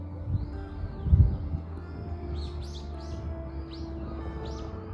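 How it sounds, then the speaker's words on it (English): Crows calling in a quiet, nearly deserted city park, several harsh caws at mid distance over a low ambient hum, with a couple of soft thumps near the start. "So I hear a lot of creepy noise already. A lot of crows"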